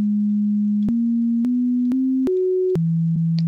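Steady synthesized sine tones from a SuperCollider keyboard step upward in pitch across five short notes, each change marked by a faint click, then drop back to a lower tone; clean, continuous and alone with no talk.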